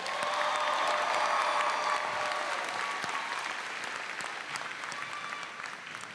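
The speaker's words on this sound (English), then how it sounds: "How about a round of applause for the class of 2019?" A graduation crowd at a high school ceremony applauds the class of 2019, with dense, sustained clapping that stays loud throughout and tapers slightly toward the end.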